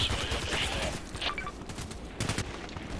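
Weapon fire in the shooter game Contract Wars, a dense run of overlapping shots and bursts with brief lulls, steady and fairly loud throughout, with a faint voice underneath.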